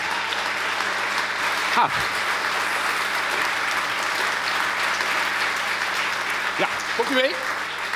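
Studio audience applauding the arrival of the Dutch health minister and deputy prime minister, sustained even clapping filling the room, with brief speech heard over it near the end.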